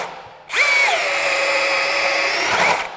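A Milwaukee M18 compact brushless cordless drill spins up sharply and whines steadily for about two seconds as it bores a 3/4-inch hole, the pitch dipping slightly under load, loud and close.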